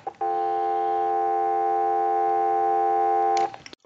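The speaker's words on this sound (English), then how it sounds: "if I push the button on the amplifier, you're going to hear our dial tone" A steady dial tone from a Western Electric rotary telephone played through an amplifier, a loud continuous hum that holds unbroken for about three seconds before cutting off with a click.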